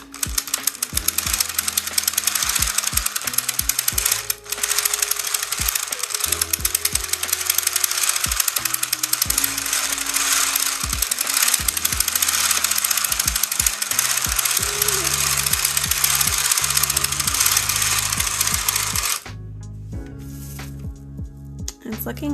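A 3D printed circular sock machine being cranked through rows of yarn makes a loud, continuous mechanical clatter and rattling that eases off near the end, with a person talking.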